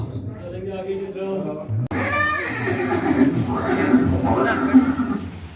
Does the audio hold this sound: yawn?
no